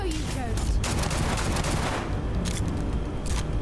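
Pistol fire in the video game Starfield comes as a dense, continuous burst of rapid shots, loud and close, with a brief lull before it resumes.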